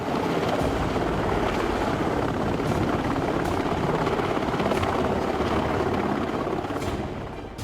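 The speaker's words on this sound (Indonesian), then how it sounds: "menggunakan helikopter untuk mentransfer bahan bakar atau barang lain" A helicopter at a large aircraft carrier roars loudly and continuously, its rotor thumping in a steady rapid beat, close and constant before easing slightly at the end.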